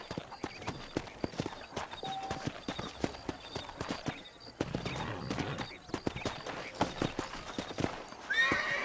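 Horse hooves clip-clop in a steady rhythm, close and fairly loud, with a horse whinnying near the end, while a rider travels in an early-1900s western video game.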